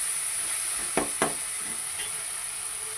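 Onions and tomato frying in a pan, a steady hiss of cooking with two brief spoon knocks near the middle, close and moderately loud.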